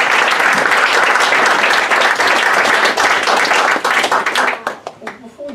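A live magic show audience breaks into loud, thick applause. The clapping holds steady and crowded, then dies away into scattered claps and a voice near the end.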